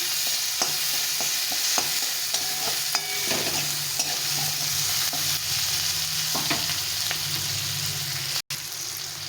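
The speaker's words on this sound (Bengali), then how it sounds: "পেঁয়াজ দুটো দিয়ে দিলাম। দিয়ে ভালো করে ভেজে নিতে হবে।" Onions fry in a pan with black cumin, making a continuous close sizzle punctuated by occasional clicks and scrapes of stirring, with no talking.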